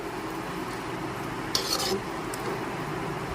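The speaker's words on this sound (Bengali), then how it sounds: "চিনিটা মিশিয়ে নেওয়ার পর একটু নেড়ে ছেড়ে নিচ্ছি" Okra masala stirred in a pan just after sugar goes in, with soft scraping and stirring over a low sizzle and a couple of brief utensil clinks against the pan.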